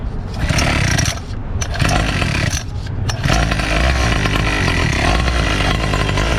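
A Primal Raminator, a large gas-powered RC truck weighing about 80 pounds, has its nitro engine fire up close by and run as a loud, buzzing, chainsaw-like drone. It briefly dips twice before settling into a steady roar, with no voices.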